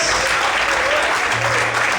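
A church congregation claps to praise the Lord in continuous, loud, dense applause, over a low sustained musical tone, with a voice briefly heard.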